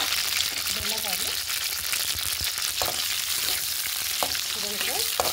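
Okra frying in a pan for Andhra village-style chutney: a continuous, even sizzle runs throughout, with a faint voice surfacing briefly in the background.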